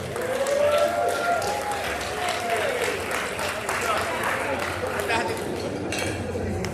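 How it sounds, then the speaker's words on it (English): Guests at an 80th birthday gathering clap for the honoree amid clinking dishes and cutlery, with chatter and a few raised voices running over the scattered applause. "let's give Moses a big round of applause"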